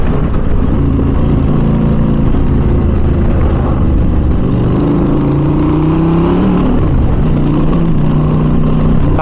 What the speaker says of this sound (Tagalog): Truck coming mga truck.